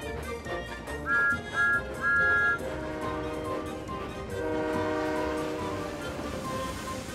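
Thomas the Tank Engine, a cartoon steam engine, speeds along its track and blows three short whistle toots, then keeps rolling with a steady rumble under soft music.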